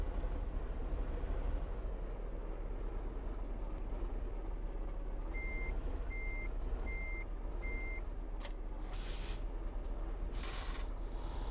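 Farming Simulator 15 truck reversing, with evenly spaced electronic backup beeps repeating over a low continuous engine rumble, followed by a few brief harsher bursts near the end.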